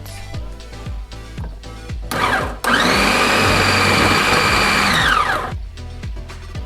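An electric food chopper grates carrots for Ukrainian deruny, starting with rapid chopping pulses, then a loud sustained motor whir for a few seconds that spins down into more short pulsing bursts.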